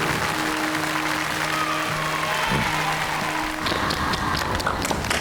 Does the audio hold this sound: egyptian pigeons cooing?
no